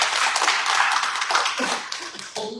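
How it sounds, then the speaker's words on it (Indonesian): A church congregation claps together in a burst of applause that fades after a couple of seconds, with a voice starting to speak near the end. "Berikan tepukan untuk Tuhan."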